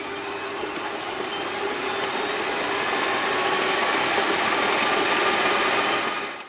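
An electric mixer beats strawberry coconut cake batter in a bowl, giving a steady, loud, close whirring drone that holds for several seconds before it winds down and stops. No one speaks.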